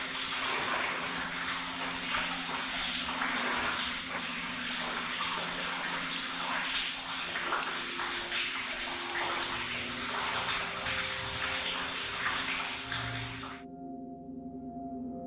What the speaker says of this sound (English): Probably water hitting the rocks